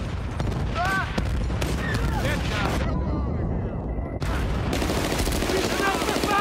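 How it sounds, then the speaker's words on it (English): Battlefield Bad Company game combat with a grenade launcher, dense loud gunfire and booming blasts nearly nonstop, a voice talking over it and a brief lull near the middle. "this is like a grenade launcher."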